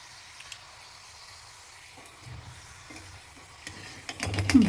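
A rice flake (avalakki) sandige is dropped into hot oil on medium heat. After quiet stirring and clatter, a soft, close sizzle swells near the end.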